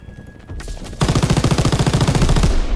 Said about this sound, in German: Scheiße, keine Munition mehr mit dem MG